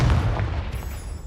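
Confringo fire spell blasting in Hogwarts Legacy on PS5, a heavy booming burst at the start that rumbles and fades over about a second, loud and close with no talking.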